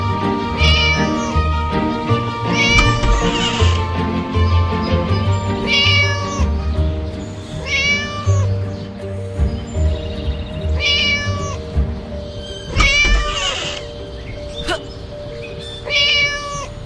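A cat in the video game Scary Teacher meows again and again in short, clear cries over steady game music and background sounds, with several meows spaced a few seconds apart.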